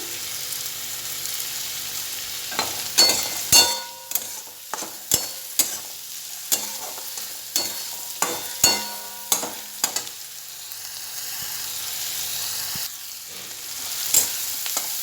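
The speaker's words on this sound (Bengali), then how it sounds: "পেঁয়াজটা লাল লাল করে ভাজা হয়ে গেছে" Onions with garlic and salt sizzle steadily in a hot pan while a utensil repeatedly stirs and scrapes, sharp clanks recurring every second or so, close and loud.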